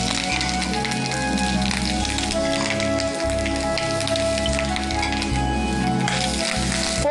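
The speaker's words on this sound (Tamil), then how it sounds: "போட்டுட்டு இந்த தேங்காய் நல்லா வாசம் வர வரைக்கும் நீங்கள் வதக்கணும்" Grated coconut sautés in a pan with curry leaves for a valapu thenga curry, giving a steady, close crackling sizzle that runs unbroken throughout, with a low background hum underneath.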